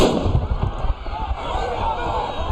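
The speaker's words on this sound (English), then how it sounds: "we saw people throwing things at police, including what looked like fireworks" Fireworks are thrown at police during a street protest in Oklahoma City. Sharp crackling bursts come loudest at the start, then continue as a noisy, crowded rumble, with voices talking over them.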